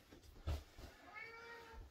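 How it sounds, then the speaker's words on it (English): A pet cat gives a single drawn-out meow, close and soft, with a bit of low rustling around it. "Aren't you a pretty kitty?"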